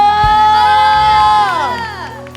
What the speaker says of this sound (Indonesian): Boleh lebih semangat lagi tepuk tangannya. Sorakan, sorakan haleluya